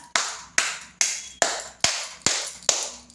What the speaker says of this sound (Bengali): হাততালি ছাড়া আর কিছুই দিতে পারলাম না